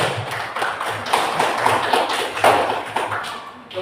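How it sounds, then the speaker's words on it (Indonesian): Schoolchildren in a classroom clap together for a classmate, a brisk burst of many hands, moderately loud and close, fading at the end. "Tepuk tangan untuk Sandi"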